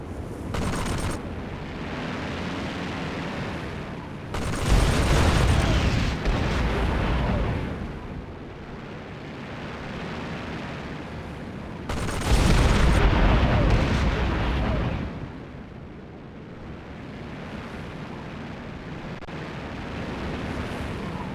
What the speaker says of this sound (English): Shots are fired using the gun. Now use the gun to attack the enemy.